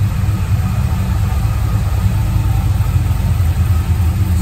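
A 2008 Saleen Mustang with Brenspeed Stage 3 upgrades, long tube headers, high flow cats and QTP exhaust cutouts closed idles steadily, a loud, even low rumble heard close up with no voices.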